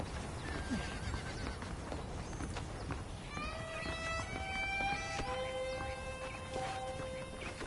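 Several horses whinny and neigh in the video game Red Dead Redemption over a steady ambient bed, with hooves clip-clopping, the calls layered and overlapping in the second half.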